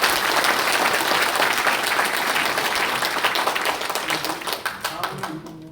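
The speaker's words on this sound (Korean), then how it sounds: "우리 다시 한번 박수 한번 부탁드리겠습니다." Applause at a public hearing held at the National Assembly on revising the judicial scriveners act, dense clapping from the assembled audience that thins into separate distinct claps before fading out.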